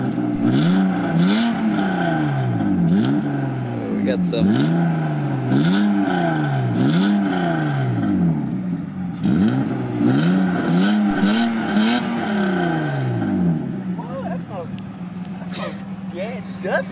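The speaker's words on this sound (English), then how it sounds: "give her some revs" A 1995 BMW 325i with a 3.0-litre inline-six revs repeatedly in close, loud, rhythmic climbs and falls, with people talking briefly over it.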